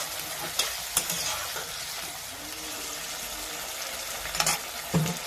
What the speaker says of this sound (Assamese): এতিয়া অলপমান পানী দি ফেলে ফ্রাই কৰিম।